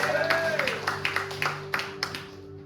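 A small church congregation claps during a sermon, with a handful of distinct claps at a loose, uneven rhythm and a voice over the first moments, before it tapers off.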